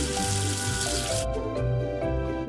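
Running water rinses soap off a toy number 7 in a cartoon washing game, a steady splashing rush that cuts off midway, leaving light drips and droplet sounds over cheerful background music.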